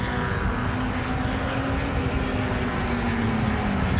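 A continuous engine roar from MRF Challenge formula race cars circulating at Chennai, a steady droning whine that shifts slightly in pitch, heard alone at mid distance.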